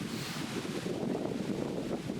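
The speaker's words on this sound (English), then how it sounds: "Yeah, it's windy" Steady gusting wind buffets the microphone on an open links-style disc golf course, a continuous broad rushing roar with no other clear sounds.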